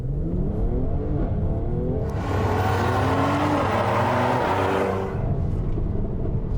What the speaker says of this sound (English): And of course, shooting off from a standstill as well.